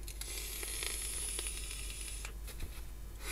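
An electronic cigarette being power vaped by direct inhalation gives a steady, soft hiss and sizzle of vapour, faint and continuous with a few small crackles.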